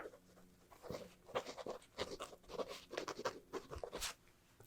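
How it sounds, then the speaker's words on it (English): Pen writing down measurements in a quiet room, soft close scratching strokes in short irregular bursts. "Let's write that down."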